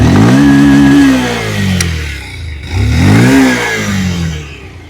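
A 2026 Bajaj Pulsar 125cc motorcycle engine, ridden on the road, revs up twice, its pitch rising and falling in two smooth surges. It is loud and close, with no voices.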